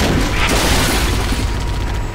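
Dense, booming gunfire and explosions from the video game Halo: Combat Evolved on The Silent Cartographer level fill the whole span, loud and continuous with no speech.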